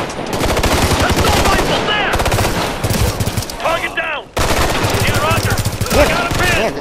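Rapid bursts of rifle fire crack loudly in Ghost Recon Future Soldier, sustained automatic strings broken by short pauses, with voices talking between and over the shots.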